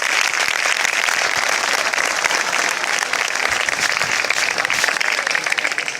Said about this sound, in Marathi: मी सर्वांना विनंती करतो की तुम्ही जोरदार टाळ्या वाजवून आमच्या टीमला उत्साह वाढवा.